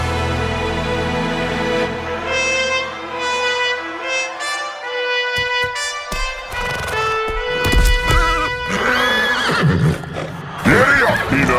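A horse named Peanut lets out a long, loud whinny that falls in pitch and trails into shaky snorts, followed by scattered clatter and knocks nearby.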